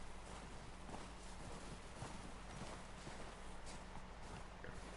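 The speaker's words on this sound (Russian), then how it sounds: "О, я лошадей вижу." Horses clip-clop steadily through Red Dead Redemption 2 on PS4, a continuous patter of hooves under a dense, even layer of game ambience, with no talking.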